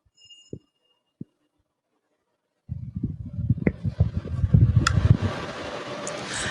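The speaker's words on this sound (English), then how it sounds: "let's start it one by one. First is the pelleting section." Pelleting section of a wood pellet production line starts up after a couple of sharp clicks and near silence, building into a loud, rumbling mechanical roar that grows and holds.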